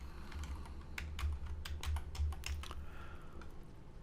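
Typing code on a computer keyboard, a quiet, close run of irregular key clicks with a few brief pauses and a faint low hum underneath.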